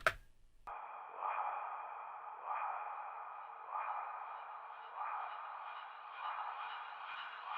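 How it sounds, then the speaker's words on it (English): A sustained synthetic tone pulses softly at a slow regular rhythm, each swell echoing and smearing into a long reverberant tail after a brief opening sound. "this is me just using a little bit of delay and reverb"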